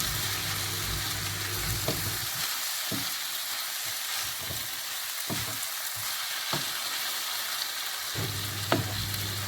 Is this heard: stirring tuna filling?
yes